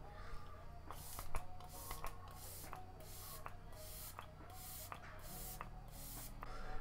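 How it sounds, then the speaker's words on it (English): Seal the Deal makeup setting spray misted onto a face in repeated short pumps, about ten quick hissing bursts in a steady rhythm, close and soft, with no talking. "I'm going to go ahead and use the setting spray."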